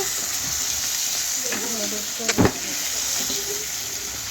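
Crab pieces frying in a masala gravy are stirred with a spoon, giving a steady broad sizzle and a couple of sharp clacks of the utensil against the pan partway through, close and fairly loud.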